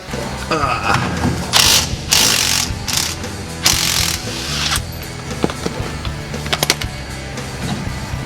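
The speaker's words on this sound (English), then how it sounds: "removing 2 bolts, sliding off the old bearing, and popping the new one on" A ratchet removing bolts to replace a bearing on a dump truck, loud close clicking in quick bursts of several strokes with pauses, then scattered metallic clicks and clanks.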